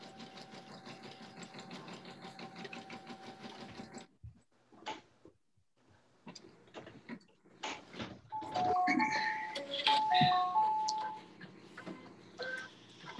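A sewing machine top stitches around a Christmas stocking, humming steadily for several seconds before stopping, followed by handling noises and a few beeping electronic tones, all fairly quiet.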